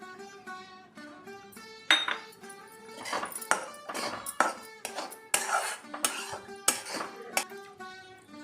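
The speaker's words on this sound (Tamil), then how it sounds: "இந்த டயத்தில் எடுத்து வச்ச ரவையை போட்டுடுறேன்" Semolina tipped into a pan for dry roasting while making somas, with metal clinks and taps of a utensil against the pan, ringing irregularly and close by.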